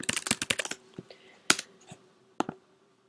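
Quick clusters of key presses on a computer keyboard, close and crisp, a fast run of taps followed by a few isolated clicks and a final pair of strokes.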